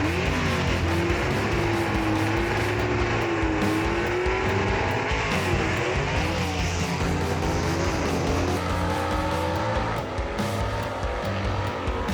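Gasser drag race cars roar down the strip in a Southeast Gassers race, a loud continuous engine snarl with shifting pitch and some tire squeal, close and sustained for the whole stretch with no talk.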